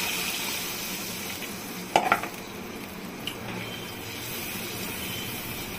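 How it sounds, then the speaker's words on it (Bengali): Hot water poured into frying masala for mutton curry: a steady sizzling hiss with a brief splash and clatter in the middle, close and moderately loud. "এবার আমি গরম জলটা ঢেলে দিব"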